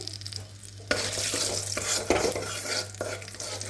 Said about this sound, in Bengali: এখন এই তেলের মধ্যে আমি ফোড়ন দিয়ে দেবো, একটু কালো জিরে দিয়ে দিচ্ছি